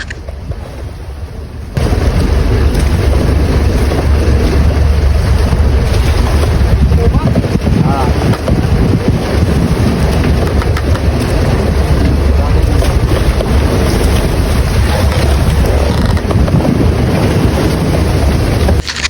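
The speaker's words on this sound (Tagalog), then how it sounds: "Maalan pa at mahangin" Strong wind buffets the microphone continuously on a fishing boat at sea, a loud roaring rush over engine and water noise, steady throughout.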